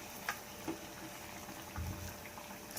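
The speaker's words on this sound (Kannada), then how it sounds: "ಫ್ರೈ ಮಾಡ್ಕೋಬೇಕು" Jackfruit sweet snack pieces frying in hot oil give a faint, steady sizzle with a few small pops scattered through it.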